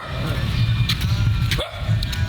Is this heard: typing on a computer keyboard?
no